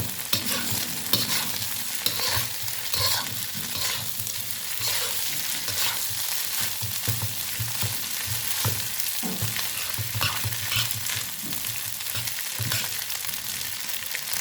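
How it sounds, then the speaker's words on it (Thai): Steady sizzling and scraping as egg fried rice is stir-fried in a hot wok, a continuous crackle with repeated stirring strokes and no talking. "ก็ผัดจนว่า ข้าวเขาแตกกันเป็นเม็ด ๆ นะ"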